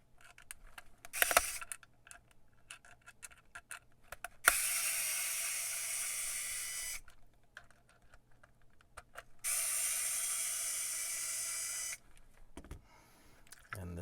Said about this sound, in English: So next thing I'm going to do is take the fan out. That'll be removing these 2 screws.